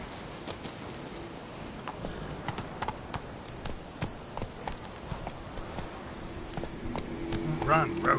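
The horse Roach galloping in a video game, a steady run of hoof clip-clops on the ground, moderately loud, with a brief whinny near the end and a voice speaking over it.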